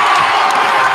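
A soundboard crowd-cheer effect blares out loud and dense, a short burst of many voices whooping and cheering with no gaps.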